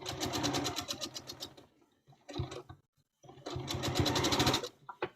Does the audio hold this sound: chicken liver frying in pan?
no